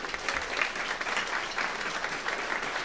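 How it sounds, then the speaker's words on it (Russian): An audience at a jazz performance claps steadily, a moderately faint, even patter of many hands sustained throughout with no voices over it. "Give both these guys one more round of applause,"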